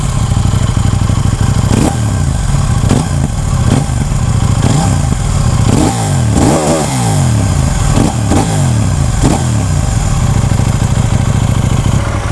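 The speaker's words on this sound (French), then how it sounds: "on va regarder le bruit du moteur" A loud KTM 790 Duke motorcycle engine idles with a rough clatter, then revs sharply several times in quick bursts, close up and alone.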